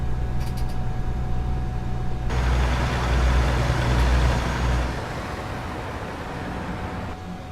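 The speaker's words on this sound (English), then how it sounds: "I do like the squeak and hiss hose sounds" A truck in the American Truck Simulator game idles with a low engine rumble, then a long, loud air-brake hiss bursts out and fades over a few seconds, leaving a softer hissing and rumbling bed.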